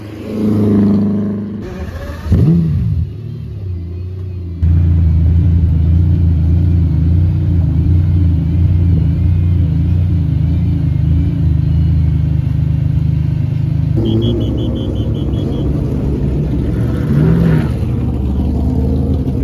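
A Bizzarini race car engine in a paddock or trackside setting, with a loud, steady low rumble that rises into sustained revving, staying close and dominant for most of the stretch with brief throttle blips near the start.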